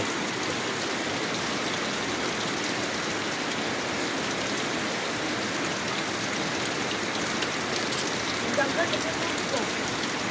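Rain drums on the surface of a fishpond, a close, dense and constant patter that stays level for the whole stretch, with a few faint knocks near the end.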